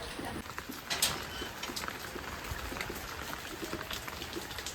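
Light rain patters faintly and steadily on surfaces nearby, with occasional louder drips and taps standing out from the soft background hiss; no voices.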